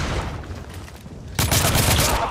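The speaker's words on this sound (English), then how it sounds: "I'm under heavy fire!" Heavy gunfire in the video game The Order: 1886: a dense, loud burst of rapid shots starts abruptly after a rumbling lull.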